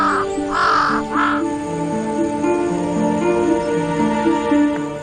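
Crow cawing on a beach on Yakushima while pecking baby sea turtles, two or three loud harsh caws near the start, then a steady background drone, no talk.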